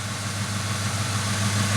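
A car engine idles steadily just after its battery has been recharged, a close, continuous low rumble with an even throb and no voices.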